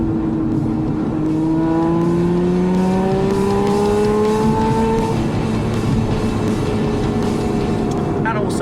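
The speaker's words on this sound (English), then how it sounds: "the hand control is getting full throttle" An Aston Martin V12 Vantage S fitted with hand controls and a BamfordRose 600-plus bhp tune, its V12 held at full throttle with a loud, steadily rising engine note and a voice talking over it.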